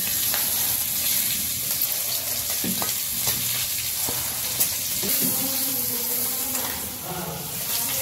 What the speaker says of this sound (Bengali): তারপরে ওই মাছগুলো ভাজবো